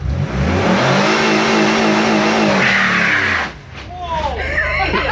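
A Chrysler car engine revs hard during a motor test with the parking brake on, a loud sustained roar rising and falling in pitch before dropping off, with people shouting over it.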